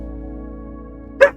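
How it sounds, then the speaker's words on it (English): A single loud dog bark in a video game, sounding sharply once near the end over a steady low game ambience. "And there's a dog down here."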